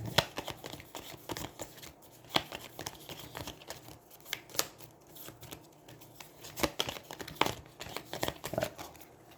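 Playing cards for the Aeons End War Eternal deck-building game are shuffled by hand at a table, a steady run of quiet, irregular riffling snaps and soft card-on-card slides.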